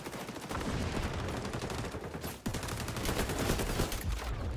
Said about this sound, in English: shooting my shotgun